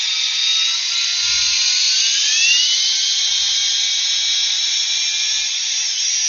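A Ridgid brushless hammer drill bores into wood with a steady, loud high-pitched whine that holds almost unbroken, with a few faint low thumps underneath and no voices.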